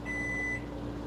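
A microwave oven gives a single steady electronic beep lasting about half a second, faint against a low kitchen hum.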